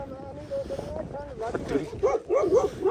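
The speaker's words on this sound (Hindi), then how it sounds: "चार कुत्ते हैं यहाँ पे, 4।" Dogs at a Gaddi shepherds' camp in cold, wet mountain weather bark and whimper in short yelping bursts close by, mixed with a voice speaking.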